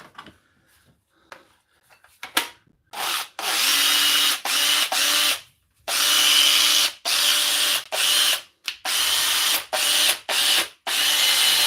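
A power drill whirs in a series of short and longer bursts, starting and stopping repeatedly, loud and close with brief silences between.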